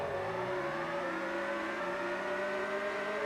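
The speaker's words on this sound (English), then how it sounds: "My car sounds very upset." The engine of an F1 race car in the N64 game F1 Pole Position 64 hums loudly and steadily, revving with a slight climbing pitch, and no one speaks.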